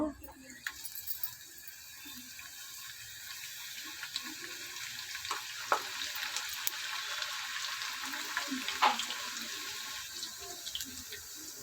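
Wheat-flour puri fries in hot oil with a steady, watery bubbling hiss close up, a faint voice underneath and a few light clicks of utensils scattered through.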